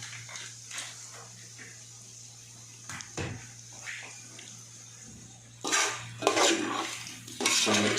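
Spices are stirred into fried meat in a cooking pot, with scattered scraping and clinking of a spoon against metal over a steady low hum, growing louder and busier toward the end.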